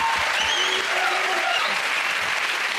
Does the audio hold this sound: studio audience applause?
yes